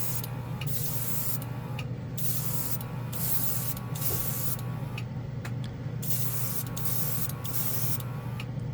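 A Casubaris portable airbrush sprays Alien Purple paint onto a primered spoon, giving a steady close hiss with the compressor's low hum underneath and short repeated bursts as the trigger is pulsed, and no one speaks.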